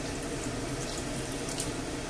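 Water is poured into a pot of pork in tomato sauce, making a steady broadband rushing splash that holds at an even level without a break, and nobody speaks.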